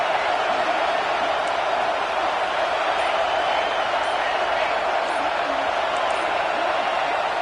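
Stadium crowd roaring during a Penn State game in the NCAA football video game, a dense, constant wash of noise filling the whole stretch, with a commentator's voice over it.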